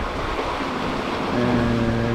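Broadband wash of ocean swell at sea, heard from a sailboat on passage between the Canaries and Cape Verde, a steady rushing roar with a faint low tonal hum rising in the last second.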